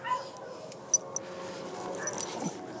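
A small puppy outdoors gives soft whimpers and a few short yips and barks, close by but fairly quiet over a steady background hiss, with a little human voice in the background.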